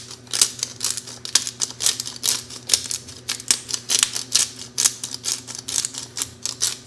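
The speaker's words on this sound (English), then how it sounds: "Nice little pepper grinder. I'm just gonna do a couple good grinds." A small black pepper grinder cranks out a steady series of crisp, rhythmic crunching clicks, close and distinct, around two per second with no talking.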